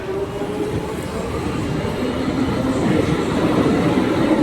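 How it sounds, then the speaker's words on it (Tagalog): Train pulling into Finchley Road station on the London Underground, a steady rolling rumble of wheels and carriages that grows slightly louder as it arrives, with no talk over it. "Ayan na yung train."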